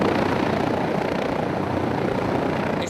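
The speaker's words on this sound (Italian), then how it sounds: "È stato l'elicottero del SUEM che intorno alle 16:30 l'ha individuato dall'alto" An SUEM emergency rescue helicopter flies over the Sile river, its steady, loud rotor and engine roar filling the whole stretch with no pause.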